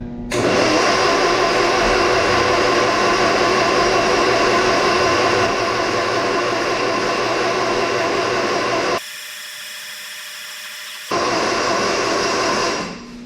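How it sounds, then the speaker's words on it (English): A 2332cc EMPI Volkswagen air-cooled engine being cranked by the starter with no fuel, a loud continuous whirring drone that cuts out briefly and then resumes before it stops. "let's crank this thing over and see if we can't get some oil pressure to show up"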